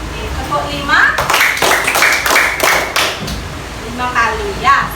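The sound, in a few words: schoolchildren clapping hands in counted claps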